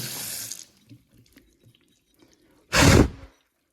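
Hot tap water runs briefly onto a CPU waterblock being rinsed, a short gushing burst after an earlier stream and a few faint drips, close by in a quiet room.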